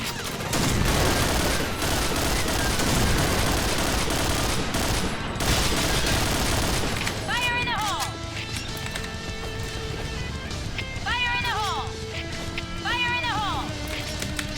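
Rapid gunfire in PUBG comes as dense, loud bursts of shots under excited talking, then thins to scattered distant shots with chirping in-game effects.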